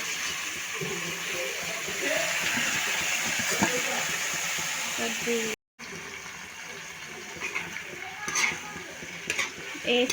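Ground ivy gourd paste is stirred into onions frying in a pan, giving a steady sizzle with scraping and stirring sounds and a brief break partway through; a voice speaks faintly at times.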